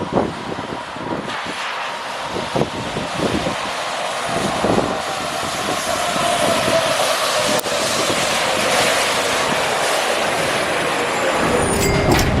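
A train pulls into a station on a Hartford-bound line, a steady broadband rumble and rush building in loudness over about twelve seconds, with brief squeals and clanks near the end.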